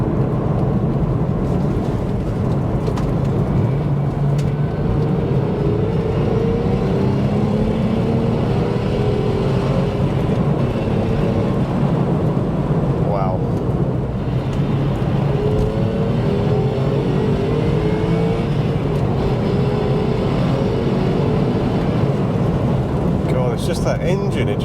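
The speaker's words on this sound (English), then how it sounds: "Just that engine, it just feels like it's breathing so much better now as well." A Porsche 996 fitted with a Hartech 3.7 engine drones steadily while driving, its low engine note running continuously under broad road and wind noise, with no distinct rev peaks.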